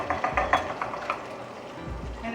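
Chopped onions sizzle in a pot as boiled cabbage is cooked Southern style, with a spoon scraping and clinking against the pot in quick bursts over a steady frying hiss.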